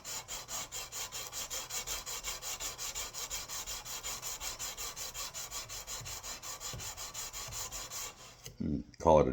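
Dry hand-sanding of wood with 180 grit sandpaper, a rhythmic back-and-forth rasping stroke about four times a second, close and steady, ending with a few handling knocks.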